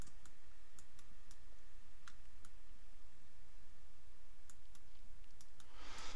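A computer mouse clicks during 3D modeling work in Maya, with sparse faint clicks scattered over a quiet room hum, some in quick pairs.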